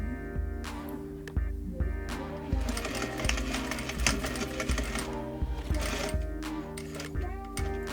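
Sewing machine stitching along the short end and top edge of a trouser welt, steady motor whir in bursts that stop and restart as the needle pivots, close and fairly loud.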